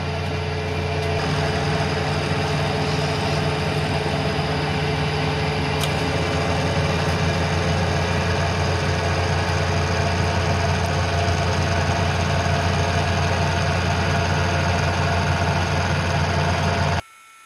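A K&T Model 2D rotary head mill cutting a metal adapter nut for an ER-40 collet chuck, a steady loud machining drone that runs unbroken for about seventeen seconds before stopping abruptly.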